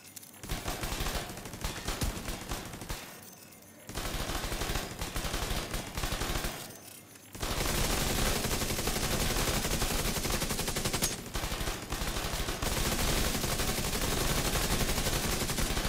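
A turret in The Division 2 video game pours out sustained rapid automatic gunfire, loud and dense, with two brief lulls before the firing resumes without a break.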